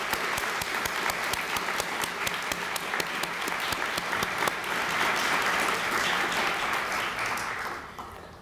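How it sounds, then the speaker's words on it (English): A crowd at a Black History Month celebration gives sustained, dense applause that stays loud and steady for several seconds before tapering off near the end. "So let's give them another round of applause."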